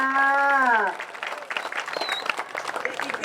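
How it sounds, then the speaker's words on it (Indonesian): A crowd at a temple dance performance at Pura Dalem, Pejeng Kaje, Tampaksiring, breaks into lively applause after a drawn-out vocal call, with dense clapping and some chatter continuing to the end. "Tepuk tangannya balik pisan buat suami pengibing luar biasa."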